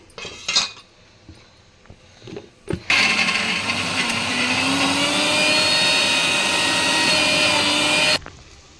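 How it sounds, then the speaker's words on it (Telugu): A few clinks and knocks, then a mixer grinder grinding tomato and dried red chilli chutney whirs loudly and steadily for about five seconds before cutting off abruptly. "ఇది మళ్ళీ ఒకసారి అయితే గ్రైండ్ చేసేద్దాం"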